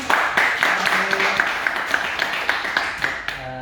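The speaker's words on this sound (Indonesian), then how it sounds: "Kita undang Pak Pupunya tepuk tangan" Scattered handclaps ring out over a noisy, murmuring crowd at a presentation, with sharp claps repeating steadily for a few seconds.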